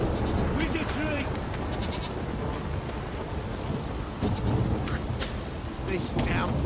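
A heavy rain downpour falls in The Witcher III game, a dense, constant hiss of rain with low rumbling underneath and scattered brief higher calls on top.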